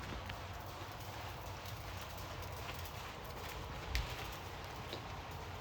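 Faint, steady clip-clop of a barrel horse's hooves loping in circles during training, a soft rhythmic beat sunk in broad background noise.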